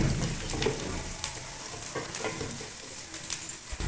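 Onions sizzle in a pot as they begin to brown for aloo pulao, a close, steady fry broken by occasional stirring clinks and bubbling pops, with no talking.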